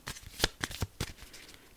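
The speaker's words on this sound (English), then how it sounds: "Let's shuffle them up." A deck of playing cards is shuffled up close, giving a quick series of crisp riffling bursts and flicks spread over about two seconds, with no one talking.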